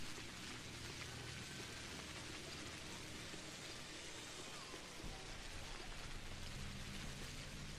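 Steady rain falls in the video game Pathologic Classic HD, a soft, even hiss of drops throughout, fairly faint, with a low rumble shifting midway.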